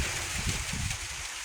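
Steady rain falls in a continuous wash during a storm in rural Thailand, a dense even hiss with low rumbling underneath, no voices.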